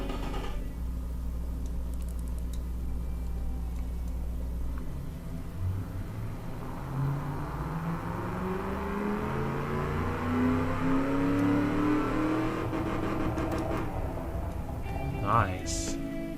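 A Jensen Interceptor replica engine in the Automation car game, run with the second muffler removed, idles low and steady, then revs and climbs in pitch over several seconds before settling, with a voice talking over it.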